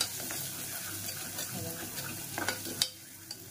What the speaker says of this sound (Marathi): कमी गॅस करायचा आणि आपला मसाला भाजून घ्यायचा.